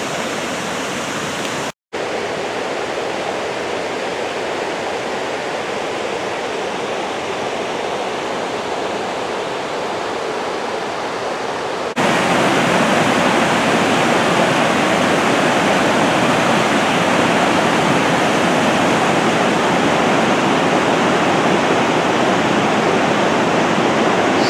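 Sandstone Falls on the New River in West Virginia pours in a steady, dense roar of rushing water, continuous and close, growing louder partway through after a brief cut.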